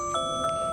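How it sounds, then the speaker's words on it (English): An alarm tone sounds in steady sustained beeping pitches with two brief louder pulses, heard alone at moderate level over a quiet room. "I think that's my alarm"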